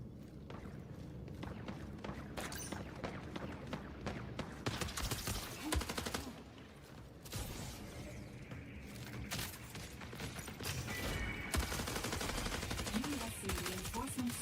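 Rapid gunfire from the sci-fi shooter video game Destiny, bursts of automatic shots and single reports mixed with mechanical clatter, loud and busy throughout with short lulls between volleys.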